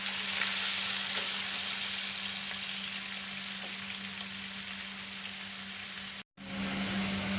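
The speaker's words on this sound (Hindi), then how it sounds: "अब इसी तेल में प्याज डालकर फ्राई कर लेंगे।" Chopped onions fry in hot oil in a pan for a green pea curry, a steady close sizzle holding evenly throughout, broken by a brief dropout near the end.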